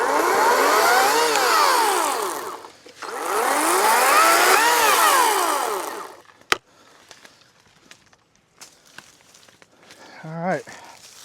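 A chainsaw cuts debris off a rough backcountry trail road, with two long loud sustained engine runs that rise and fall, then a sharp crack and scattered quieter rustles and clunks as the cleared pieces are handled.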